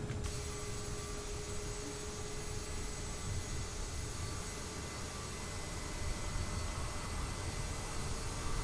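Steady broadband jet roar of a Bombardier CRJ-700 auxiliary power unit starting and running in Microsoft Flight Simulator, at a constant loud level for the whole stretch with a faint high whine on top.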